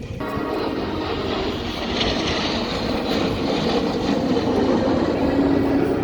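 RAF Red Arrows jets pass over an air show at EAA AirVenture Oshkosh, a loud continuous engine roar that swells gradually over six seconds with no break.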